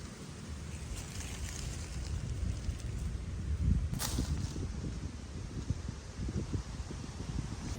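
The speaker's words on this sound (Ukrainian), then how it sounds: "Тільки вітер колише крони дерев, і шум вітру, і падає листя." Wind sways the tree crowns of an autumn forest, giving a continuous broad rushing and rustling of leaves with gusty low rumble against the microphone, steady and fairly loud, no talk.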